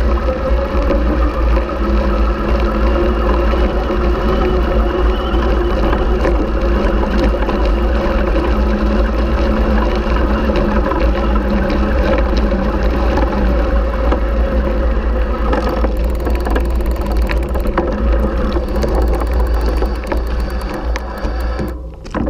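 A Bafang MAX Drive mid-drive e-bike motor works under load while the rider pedals uphill in third gear, giving a steady, close, continuous mechanical whir with no voices.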